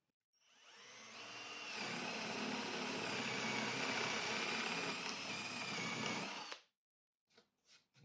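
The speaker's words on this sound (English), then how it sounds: "Start off drilling the spot for our dowel." A power drill fitted with a spade bit bores a dowel hole into timber on a workbench: a steady, loud whining drone for about six seconds, then it stops abruptly, followed by a few faint knocks.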